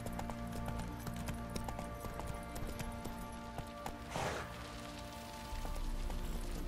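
Roach the horse walks in The Witcher 3, hooves clip-clopping steadily at moderate volume over a rain-like ambient bed, with one brief louder swell midway.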